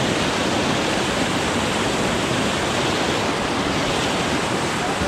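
Whitewater rapids on the South Harris and Magnetawan Rivers roar in a loud, dense, unbroken rush of churning water, close and constant throughout.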